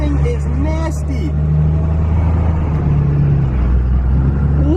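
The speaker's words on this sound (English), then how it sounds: "there is a nasty 4th gen dually coming" A 4th gen Dodge Cummins dually pickup rumbles past close by, a loud steady diesel drone that holds throughout while someone talks over the start.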